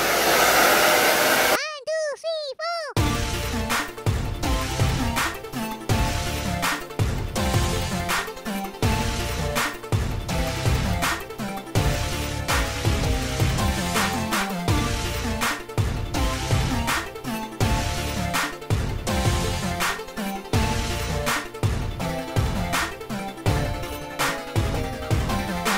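A hair dryer blows continuously at close range while hair is dried for a Brazilian blowout keratin treatment. A loud steady whoosh is briefly cut off near the start and then runs without a break.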